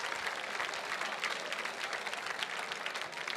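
Dense, steady applause fills a gala hall as an audience claps for donors at The Mountaineers 2023 fundraising event, loud and continuous throughout.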